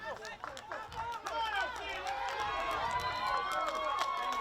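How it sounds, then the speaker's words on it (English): Crowd at a women's soccer match between FC London and Vaughan Azzurri, a steady murmur of voices and scattered shouts late in the game, with whistles and cheering rising over a continuous babble. "the crowd trying to get behind FC London here, trying to motivate them to get this goal late in the game"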